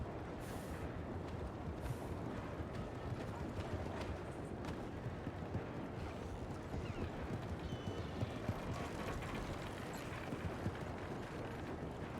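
Steady clip-clop of horse hooves from a video game, at an even walking pace, moderately loud, with a continuous rumbling background and no voices.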